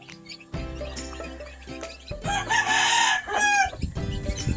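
Farm chickens cluck and call loudly and close by, including a mother hen, with a rising crow-like call in the middle. The calls overlap and carry over steady background hum.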